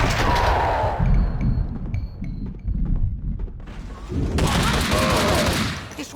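Rapid bursts of gunfire ring out in a Max Payne 2 firefight, with dense, loud shooting at the start and again near the end and a short lull between, over game music.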